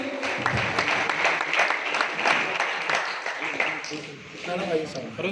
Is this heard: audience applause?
yes